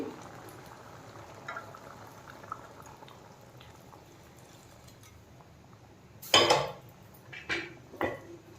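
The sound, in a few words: pouring heated water into cooking chana dal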